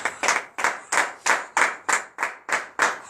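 A congregation claps in unison during a morning prayer gathering in Benin, nine or ten sharp, evenly spaced claps in a steady beat, close and clear with no talking.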